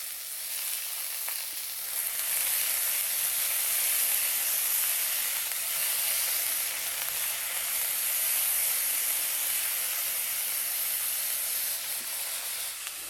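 Garlic and half a red onion fry in a hot pan, a loud continuous hissing sizzle that holds steady throughout with only faint stirring.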